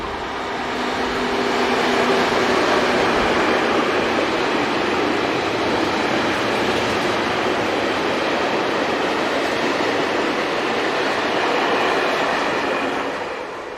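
Class 203 diesel locomotive operated by Duisport rail hauling a short eastbound container train through a station, a steady loud rumble of engine and rolling wagons held throughout at close range.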